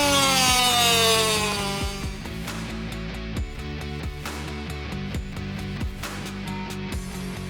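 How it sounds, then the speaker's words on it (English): A small cutoff wheel grinds into plastic on a Yamaha Blaster 200 exhaust part. The high whine spins down at the start, then settles into a rough buzzing cut with rhythmic scraping bursts close up. "Just take a little cutoff wheel here. These things are great for cutting plastic."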